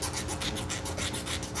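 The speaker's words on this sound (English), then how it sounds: "I'm going to need to do some more filing." A file rasps against a Yorkie's overgrown nails in quick, even back-and-forth strokes, close and steady, with no talking.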